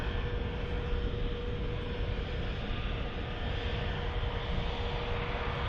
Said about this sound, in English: EasyJet just arrived in from Innsbruck.